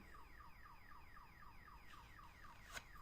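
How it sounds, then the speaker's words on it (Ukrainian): A car alarm sounds outside a window, quiet and distant, repeating a fast rising-and-falling electronic whoop with a rapid, regular rhythm. "у нас тут сигналізація сработала під вікном"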